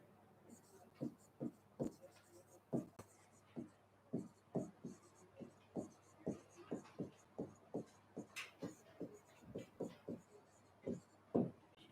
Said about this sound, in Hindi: तो मैं यहां पे लिख देता हूं